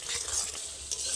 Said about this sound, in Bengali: কিছু সময় হালকা আঁচে এটাকে কষিয়ে নেব।